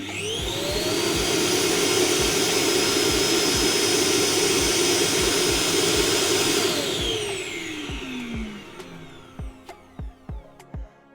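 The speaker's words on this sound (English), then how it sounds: "when the robot has finished cleaning, it will take itself back to the base station where it will automatically empty its bin into the dust bag" Robot vacuum base station automatically emptying its bin into a dust bag: a loud, close, high whooshing suction roar runs for about seven seconds, spins down, and ends with a few mechanical clicks.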